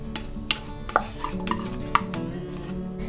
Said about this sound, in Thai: เทกระเทียมสับนะคะ ลงกระทะได้เลยค่ะ